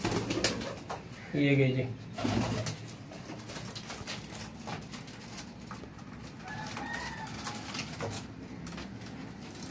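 Pigeons of a Pakistani breed give low, throaty coos amid clucking bird chatter, with someone talking intermittently over them and a brief louder burst near the start.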